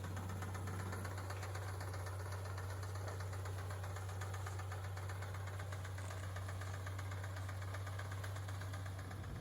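A John Deere 3010 tractor engine runs steadily on a small hay farm, a constant low rumbling drone with rapid rhythmic knocking, heard alone without talk.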